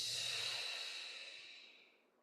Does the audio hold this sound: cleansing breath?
yes